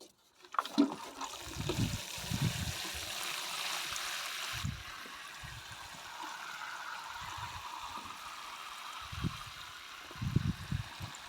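Water pours and splashes over replanted potatoes in a garden bed, a steady trickling wash lasting several seconds with occasional low thumps and rustles nearby.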